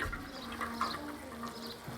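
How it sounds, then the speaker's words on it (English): Water running and splashing steadily as newly planted garden vegetables (tomatoes, peppers, squash, cucumbers) are watered, a continuous close gushing hiss with no talk. "All right, let's give them some water."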